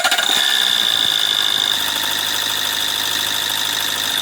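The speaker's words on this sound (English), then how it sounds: "Now start engine again." An Opel Corsa engine with a leak idles steadily with a droning hum and faint rattle after a brief rougher burst at the start, close and continuous.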